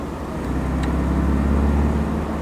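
Toyota 2T engine with a twin carburetor setup, revved up and held, a loud, close, low throbbing drone that swells slightly, with no talk.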